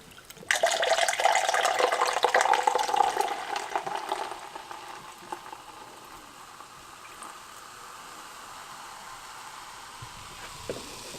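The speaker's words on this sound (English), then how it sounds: "Hear that bubbling?" Rebel Yell root beer whiskey fizzes hard as it is poured, a dense crackling bubbling that builds for several seconds, then settles into a faint, steady hiss of carbonation.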